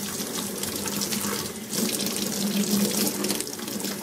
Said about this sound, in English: Open it up again, get all the soap out.